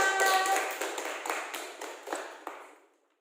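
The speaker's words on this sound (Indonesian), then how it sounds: "Beri tepuk tangan untuk kita semua." A classroom of sixth-grade pupils claps together in a brief close burst that quickly thins into a few scattered claps and stops.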